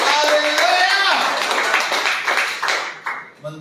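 A church congregation claps hands together during a sermon, producing a dense, loud burst of applause over music that thins into a few scattered claps and then fades.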